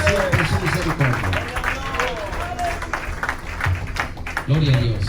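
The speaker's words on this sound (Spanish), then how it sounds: "Den palmas al Señor, porque es bueno" Church congregation clapping hands together in rhythm, a dense steady patter mixed with singing and voices throughout.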